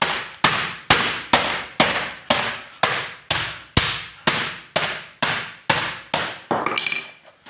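A rapid series of about fourteen sharp, loud hammer blows striking a laptop's hard, brittle casing, evenly spaced, with crunching and rattling debris after the last hit.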